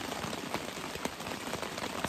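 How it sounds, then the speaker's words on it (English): Rain falls steadily on a tent or nearby surfaces at a wilderness campsite at Mckay's Harbour, a soft continuous patter with scattered individual drops tapping close by. "It's still raining."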